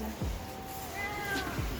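A cat meows faintly in short cries while people talk and shuffle nearby, with a thin whistling tone in the background.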